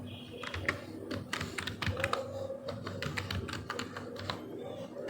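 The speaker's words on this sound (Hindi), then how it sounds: "चलिए अपने पासवर्ड को रीएंटर कर देते हैं।" Close, rapid taps on a computer keyboard as a password is entered, a steady run of fast clicks with brief irregular gaps over a faint hum.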